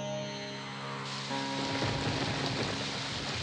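Rain starts pouring down, a dense hiss of drops on surfaces that thickens halfway through and stays loud to the end, with a faint tonal hum underneath at first.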